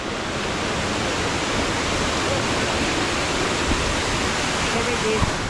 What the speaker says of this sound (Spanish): Aquí hay otra mega cascada.